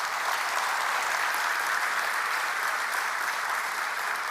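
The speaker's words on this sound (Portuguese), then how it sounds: "Você pode aplaudir ao Senhor por isso?" A church congregation applauds together, a steady, dense wash of many hands clapping at even volume throughout, with no voices standing out above it.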